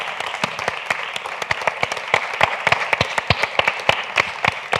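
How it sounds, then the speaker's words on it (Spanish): Audience applause sending off writer Juan Villoro at the close of a literary talk, a dense, steady patter of many hands with sharp individual claps standing out, moderately loud and continuing throughout. "vamos a despedir a Juan Villoro con un aplauso"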